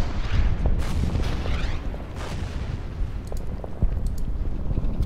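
A unit firing at artillery in the Order of Battle Saipan game: a continuous rumbling barrage of booms and blasts, loud and close, with no talking.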